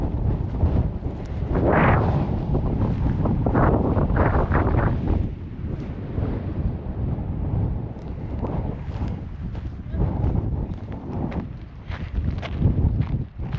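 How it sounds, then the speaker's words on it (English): Strong gusty wind buffets the microphone on open prairie in Colorado or Wyoming, a steady deep roar with surging rumbles throughout and no voices. "It's super windy."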